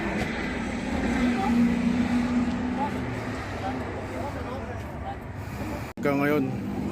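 A four-stroke motorcycle engine runs steadily close by during a group ride, a continuous droning hum with a brief cutout near the end, as people talk over it.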